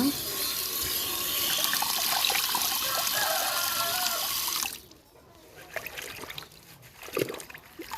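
Water being poured into a pot in a home kitchen makes a steady trickling splash for about five seconds, then stops, leaving quieter handling sounds and a brief splash.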